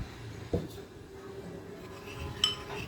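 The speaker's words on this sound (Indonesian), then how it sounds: "Kita campur semua bahan ini ya teman-teman" Melted chocolate and 80 ml of cooking oil are stirred together in a bowl for steamed brownies, with a few soft clinks of a utensil against the bowl over a quiet, steady background.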